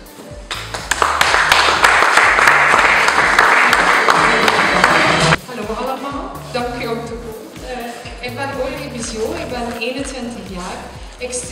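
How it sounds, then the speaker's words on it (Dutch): Audience applause for a finalist at the Miss Bredene 2014 beauty pageant, loud, dense clapping for about five seconds that then drops away into a host speaking over faint lingering claps. "Uw applaus voor kandidaat nummer 1, Aurélie Bissio."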